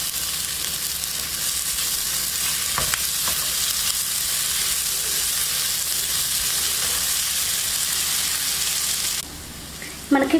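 Prawns frying in a pan with finely chopped coriander, a steady loud sizzle close up that drops away near the end, with a brief clatter at the finish.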